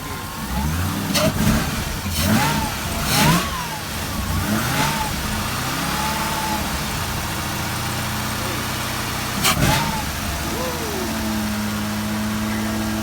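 Supercharged Chevrolet Camaro on its first drive, engine rumbling steadily with a few brief revs and surges, heard from inside the car while a person talks over it.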